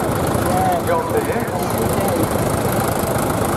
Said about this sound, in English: Little engine, two cylinder engine, vertical engine, which is unusual for a John Deere.